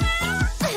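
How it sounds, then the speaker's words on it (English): A cat meows three times in quick succession, close and clear, each call short and rising. "A kitty."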